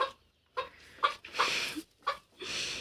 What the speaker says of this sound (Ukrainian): це півник